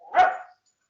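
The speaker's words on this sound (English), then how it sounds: "Listen, Rose, that wasn't a cow. That was a dog." A single sharp dog bark, close and fairly loud, followed by silence.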